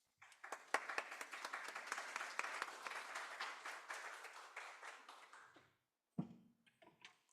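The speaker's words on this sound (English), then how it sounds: "let's give them a big round of applause" A congregation at a Children's Day and Mother's Day church service applauds mothers and children, a steady round of many hands clapping for about six seconds before cutting off, followed by a brief rustle.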